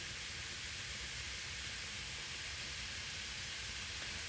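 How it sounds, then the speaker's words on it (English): Steady, dense sizzling hiss of ground beef frying in a hot pan, constant and close throughout with no voices. "Give it a chance to sizzle"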